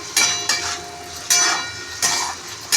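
Onion sautéing in a pan for pohe, with a spatula scraping and clinking against the pan in several sharp strokes over a soft background sizzle.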